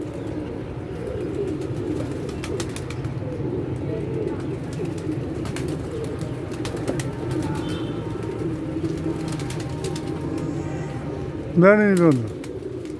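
Pigeons coo in low, repeated calls through the whole stretch, with one louder, closer burst near the end, under brief talk from a man.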